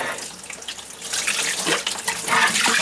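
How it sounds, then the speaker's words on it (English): Water bubbling and gurgling inside a water softener brine tank with trapped air, a continuous close splashing churn that grows louder and busier toward the end. "Why is that bubbling so much?"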